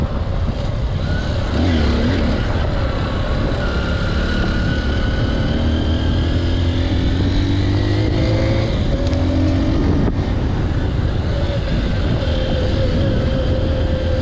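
Honda XR150L motorcycle engine in third gear riding down a four-wheeler off-road trail, a loud steady drone close by that rises and dips in pitch with the throttle, no talk.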